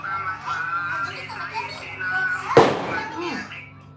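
A single firecracker goes off with a sharp, loud bang near a group of people who keep talking before and after the burst.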